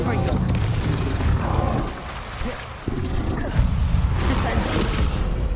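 A Confringo blasting spell cast in the Hogwarts Legacy video game sets off booming, crashing blasts. The impacts are loud and come in quick succession, mixed with rumbling debris, and a voice can be heard among them.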